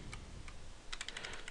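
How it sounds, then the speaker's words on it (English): Quick keystrokes on a computer keyboard: a few sparse taps, then a fast cluster of clicks, close and clear. "I'm just going to type active."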